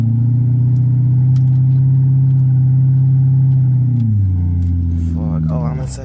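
C6 Corvette doing a burnout, its engine holding a loud steady roar for about four seconds before the pitch drops and settles, close up with faint rasping noise toward the end.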